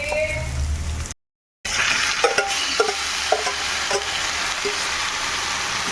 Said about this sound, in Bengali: এখন মাংসটা একটু এর সঙ্গে ভালো করে কষবো।